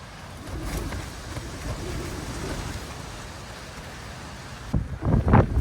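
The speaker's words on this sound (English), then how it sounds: "Probably hear the wind gusting out there now." Wind gusting around a tent pitched outdoors during a blustery test of Durston X-Mid Pro 2 and Double Rainbow Li shelters, a steady broad rushing roar with a sharper, louder buffeting burst near the end.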